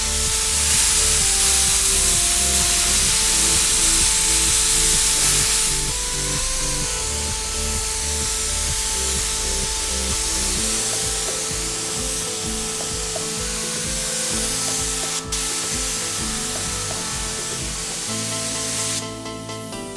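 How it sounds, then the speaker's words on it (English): A spray gun lays clear coat in a steady, continuous hiss that runs unbroken for the whole stretch, with tonal, music-like sounds layered over it. "Now it's time to apply my clear coat."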